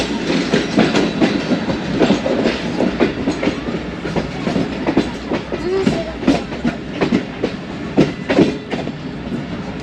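Awam Express passenger train pulling slowly out of Chaklala station in Pakistan, its wheels clicking and clattering over rail joints in a steady, uneven rhythm with a continuous rumble, close and fairly loud throughout.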